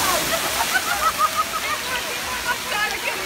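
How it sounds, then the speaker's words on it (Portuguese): Water pours and rushes from a tipping blue bucket at a splash play area, a steady loud wash of falling water with children's voices and talking in the background. "Esse balde azul aqui, ó, ele enche de água e ele vira com tudo"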